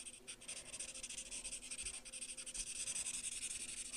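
A Stampin' Blends alcohol marker coloring on paper, giving faint, close scratchy strokes in a quick repeated rhythm, with no voices.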